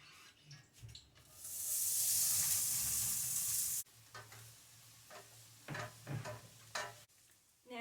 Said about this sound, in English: My pot is popping and ready for my onions, so I'm going to fry up my onions now.